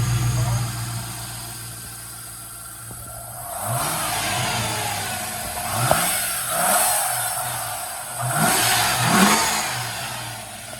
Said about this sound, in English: It's got a nice throaty idle with that Borla exhaust. I'm gonna give it some gas.